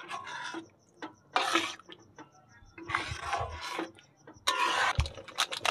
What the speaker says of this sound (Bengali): মিট মশলাটা দিয়ে ভালো করে নেড়ে নেব আমি।